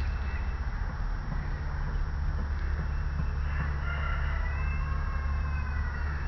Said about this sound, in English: Can you hear that rooster?